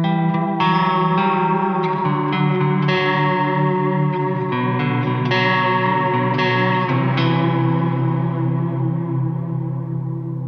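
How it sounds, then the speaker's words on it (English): Electric guitar through a Walrus Audio Slötva reverb pedal set to sine modulation, ringing chords and notes swelling into a lush, evenly wavering wash of ambient reverb that sustains and decays smoothly, played alone with no voices. "Sine is a normal and nice and even modulation type or wave shape."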